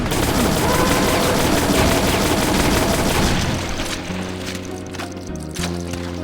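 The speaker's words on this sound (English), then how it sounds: "you will eventually get a fully automatic shotgun that is ridiculous" Fully automatic shotgun in Brutal Doom, a rapid run of heavy blasts merging into a dense roaring barrage for about four seconds, then trailing off into lighter shots and clinking, loud and close, no talk.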